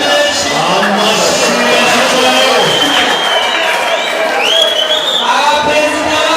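A lively crowd at an anniversary celebration for a cultural club cheers and whoops over loud, continuous applause, with voices mixed into the din.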